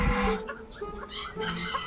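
Rooster gives a few close, short clucks and throaty calls, moderately quiet against a faint background.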